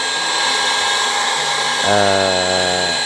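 An electric mixer blending JADAM wetting agent, a loud continuous motor whine that steps up in pitch partway through, close and steady with no talking.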